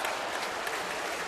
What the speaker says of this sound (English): it sure is weird to see everybody up on their feet cheering for Carpenter trying to finish this off